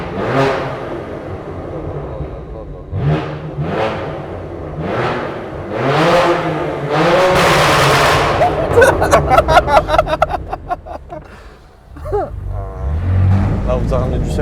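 A BMW M2 Competition of about 500 hp revs and roars through its exhaust, loud and close, with rising and falling pulls, a run of sharp crackles and pops, then a steady rumble, while people talk and exclaim over it.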